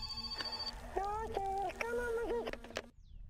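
A telephone rings in the video game My Summer Car, a steady electronic tone under someone speaking over it, the ringing cutting off abruptly near the end.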